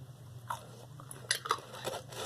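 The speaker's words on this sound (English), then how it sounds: "Eat the baby pickles." Baby pickles, small gherkins, are bitten and chewed close to the mic, giving a few short wet crunches in quiet surroundings.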